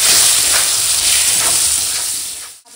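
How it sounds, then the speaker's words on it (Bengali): Chunks of raw green mango frying in hot oil with a mustard seed and dried red chilli tempering, turmeric and salt, giving a steady loud sizzle and hiss that fades slightly near the end. "দিয়ে আমটা একটু ফোড়নের সঙ্গে ভেজে নেবো"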